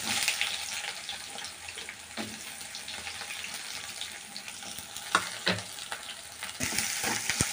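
Onions hit hot oil with mustard and cumin seeds for a brinjal and raw mango dal, giving a steady close sizzle broken by a few sharp stirring scrapes and clinks.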